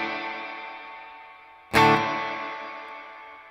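Electric guitar, a Nash T-57 into a Morgan RCA35 amp, through a Boss RV-5 reverb pedal in hall mode: a clean chord rings out in a long, fading reverb tail, then a second strum blooms with a fresh wash, no talking.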